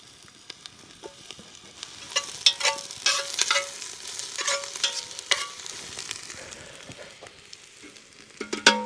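A few onions sizzle in a pan at a solo wilderness campsite by a river, with continuous close crackle and repeated metallic scraping as they are stirred, no voices over it.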